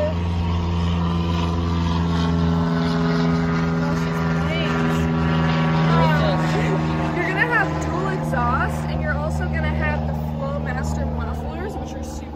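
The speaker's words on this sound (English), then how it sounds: "Super loud. Yeah, right? Sounds pretty good. We got a good V8." A loud, deep V8 engine in a 1966 Dodge Monaco Convertible rumbles steadily and close by, with steady low droning throughout while people talk over it.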